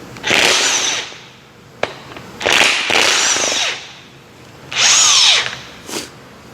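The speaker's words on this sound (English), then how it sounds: "Now I am going to use an impact on this because this is torqued much greater than the oil pump mounting bolt." An impact wrench loosens a tightly torqued bolt on a Chevy 350 small-block engine in a shop, firing in several loud, harsh bursts separated by short quiet pauses.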